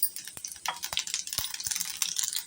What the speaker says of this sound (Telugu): ఇప్పుడు పోపు గింజలు వేసాను